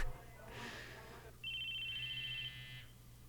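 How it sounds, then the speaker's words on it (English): A cell phone in the Chaos;Head Noah video game rings inside a classroom with a clear, sustained electronic tone over a low hum, following a brief softer noise. "An electronic sound suddenly rang throughout the classroom."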